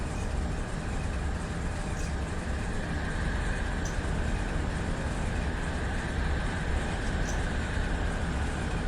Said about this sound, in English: So it looks like the Z train's blasted out from ahead of us here